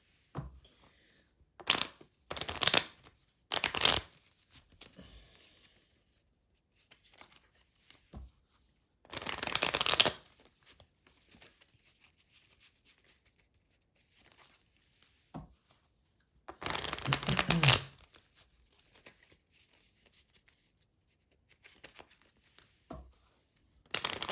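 Cigana de Sorte and Legitimo Tarot card decks are shuffled by hand in several quick riffling bursts of crisp papery flutter, separated by quieter stretches of soft handling and tapping, close and fairly quiet.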